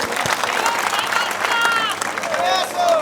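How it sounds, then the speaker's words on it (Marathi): Applause from a crowd at an outdoor political rally fills the air continuously, mixed with a loudspeaker-amplified voice speaking over it. "एकदा टाळ्या वाजवा"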